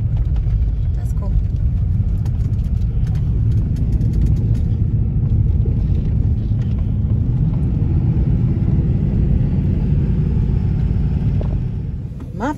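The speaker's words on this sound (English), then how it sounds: "You see the train? You hear all the noise, huh?" A passing train gives off a deep, continuous rumble that holds steady for several seconds before easing at the end, while people talk nearby.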